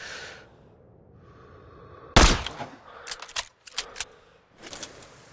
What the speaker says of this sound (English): Check the wind and pull the trigger.